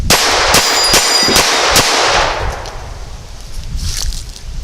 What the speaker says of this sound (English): See how it does in rapid fire.